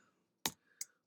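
Two separate key presses on a computer keyboard while entering a search term into Excel Help, sharp close clicks a short gap apart in an otherwise quiet room.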